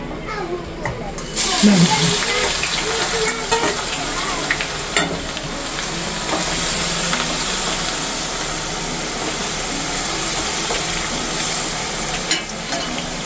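Garlic and ginger dropped into hot oil, sizzling and crackling steadily throughout with occasional stirring clatter, close by, while someone talks over it.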